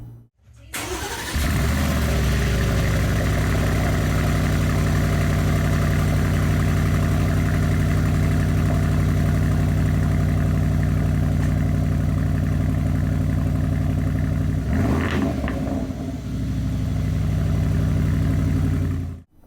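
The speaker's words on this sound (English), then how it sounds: "the thunderous sound that the 4-litre twin-turbo V8 under the hood makes" A 2025 Aston Martin Vantage with a 4-litre twin-turbo V8 starts up close by and settles into a loud, steady, deep idle, with a brief throttle blip near the end before it cuts off.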